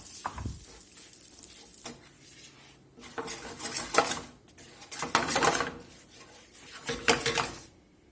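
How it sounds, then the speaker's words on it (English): Brown sugar being stirred into foaming butter in a pan, heard as bursts of metal utensil scraping and clinking against the pan in several rounds, with quiet gaps between them and no talk. "we're going to go in with this brown sugar, get it incorporated with the butter."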